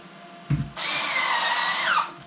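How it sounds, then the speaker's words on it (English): A power drill drives screws into the wheel holders of a rolling garage cart, giving a short thump followed by a steady, loud whirring run of about a second and a half that rises slightly in pitch near the end. "What I want to do here is put a screw in each one of these"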